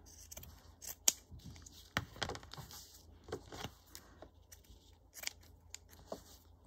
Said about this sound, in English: I'm gonna cut this one.